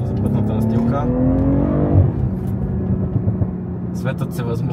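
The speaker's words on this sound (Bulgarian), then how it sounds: "подаваме газ и колата сякаш лепва за пътната настилка" A BMW M340i accelerates hard, its engine note rising in a loud, close howl for about two seconds before dropping to a rumbling cruise, with a voice talking over it.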